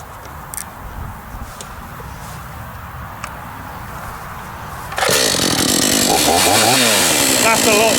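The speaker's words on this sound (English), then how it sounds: "it's now time for the Hawksmoor to show its teeth. and see what it can do with this bit of oak." Hawksmoor chainsaw bites into a piece of oak after quiet rustling, roaring loud and close with a steady engine pitch that bogs and rises as it cuts.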